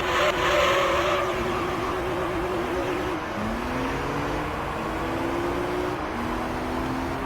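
Race car in Gran Turismo 3 driving hard, its engine climbing through gear shifts while tires skid and squeal, loud and unbroken, with no voices.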